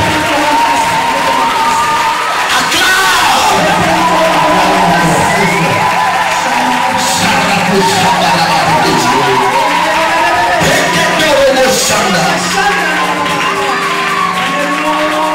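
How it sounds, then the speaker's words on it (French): A church congregation cheers and acclaims loudly during a worship service, a dense, sustained crowd roar with shouts and whoops that continues steadily for the whole stretch. "Acclame. Acclame très fort."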